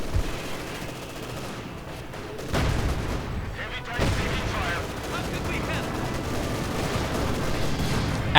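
Gunfire and explosions from a real-time strategy war game, with an anti-tank grenade blast among dense, continuous battle noise and heavy booms under the din.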